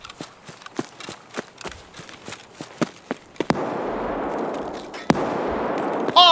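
Scav gunfire in Escape from Tarkov, a steady series of sharp single shots at moderate distance, followed by a louder crack over a noisy rushing background and one more shot near the end.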